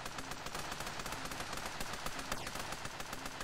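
Rapid machine gun fire in the Super Raft Boat video game, a fast continuous rattle of sharp repeated shots that stays steady for the whole stretch with no talking.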